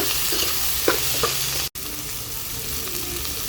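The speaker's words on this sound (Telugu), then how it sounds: "వాటితో పాటు టమాటా ముక్కలు కూడా వేసుకుని కలుపుకోవాలి" Ginger garlic paste and tomato pieces frying and stirred in a pan for paneer butter masala: a continuous close sizzle with a few spoon scrapes and a brief cut in the middle.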